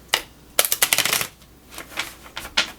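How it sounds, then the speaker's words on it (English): A deck of cards being shuffled by hand, with quick papery riffles and flutters in a few short bursts, close and fairly crisp, with pauses between and no talking. "So I'm going to shuffle."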